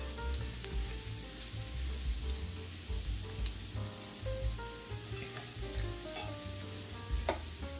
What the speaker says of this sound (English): And if we just cook that garlic for about 1 minute, it should be perfect.